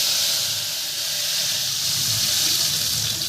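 Mustard seeds, two dried red chilies and a little asafoetida sizzle in hot oil for a South Indian tempering, a loud, steady, close-up hiss and crackle that continues without pause and without voices.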